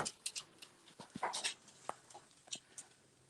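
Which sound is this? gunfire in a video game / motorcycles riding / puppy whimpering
puppy whimpering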